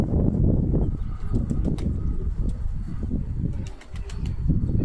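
Pigeon wings flap and clatter in bursts over a steady low outdoor rumble, with occasional faint bird calls in the background.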